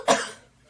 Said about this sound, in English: You have to cough before the show starts.